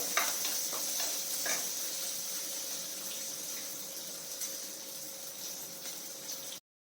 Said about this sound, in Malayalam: അപ്പോൾ ഇത് നല്ല രീതിയിലൊന്ന് വഴണ്ടു വരുന്നു കേട്ടോ